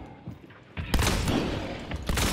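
Shotgun blasts boom in the Hunt Showdown video game, a few loud heavy shots in quick succession with a thick roar of reverberating gunfire, preceded by quieter game ambience.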